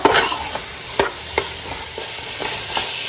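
Fatty pork is stirred into green masala in a pan: a steady greasy sizzle runs throughout, punctuated by several distinct spoon knocks and scrapes, close and fairly loud.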